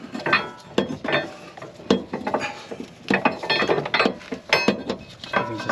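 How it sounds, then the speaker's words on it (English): Metallic clinks and ratcheting clatter from a bolt being worked out of the suspension fork on a 1998–2002 Honda Accord during a coilover install, a string of close, irregular tool-on-metal taps and rattles with no talking. "Now I can take this bolt out."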